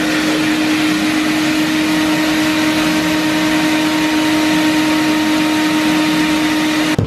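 A household vacuum cleaner runs continuously at close range with a loud, steady motor whine and strong airflow hiss while it inflates balloons, then cuts off abruptly at the end.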